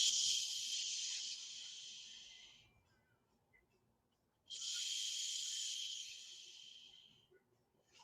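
Two long, forceful steaming exhales through the mouth during a twisting yoga breathing practice, each a loud airy hiss lasting a couple of seconds, separated by a quiet pause, with no talking.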